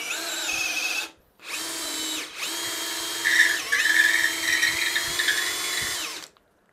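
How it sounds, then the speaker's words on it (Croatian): A Bosch GSR 12V-35 FC cordless drill boring a 25 mm hole, the motor whining in three long bursts separated by short pauses, pitch shifting as the bit bites, close and loud with no talk. "Evo sad ćemo da probamo da izbušimo još jednu rupu, ovu 25-icu ovdje"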